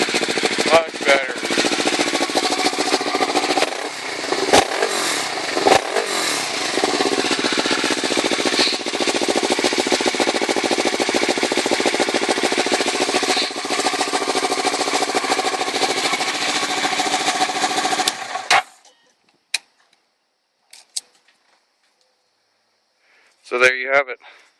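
Kawasaki Ninja 650R, a 2011 motorcycle fitted with a Yoshimura carbon fiber exhaust, runs loud and steady for about eighteen seconds with sharp revving bursts, then cuts out to near silence before a brief voice at the end.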